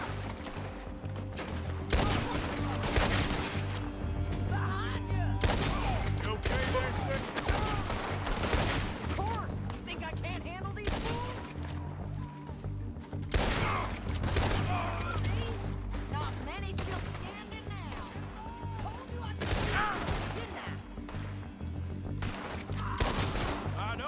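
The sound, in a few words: gunfire in video game Red Dead Redemption 2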